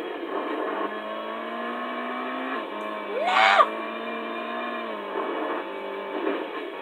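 Racing cars in a PlayStation One rally game, with a steady engine drone that shifts pitch as the car accelerates, plus a brief rising whoosh of a car passing midway, thin lo-fi console audio.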